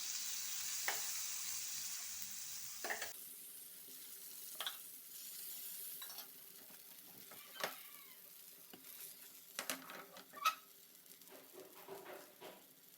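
A protein paratha cooks in butter on a pan, giving a quiet, soft sizzle with scattered spatula scrapes and light clinks. The sound is faint and intermittent throughout.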